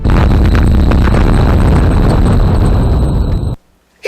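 A loud, roaring explosion blast that rumbles at full force for about three and a half seconds, then cuts off abruptly into near silence.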